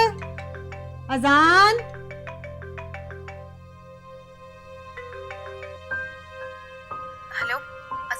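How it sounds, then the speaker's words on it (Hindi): A mobile phone ringtone plays a bright, repeating melodic tune through much of a domestic scene in a Pakistani TV drama, with a voice speaking over it. "देखो तुम्हारा फोन भी बज रहा है।"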